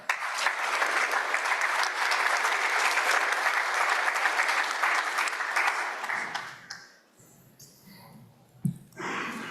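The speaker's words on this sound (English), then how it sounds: "we'll have a round of applause in her honor" A sustained round of applause from a crowd at a university award and scholarship reception, steady and fairly loud for about six seconds before fading out, followed by a few quiet sounds.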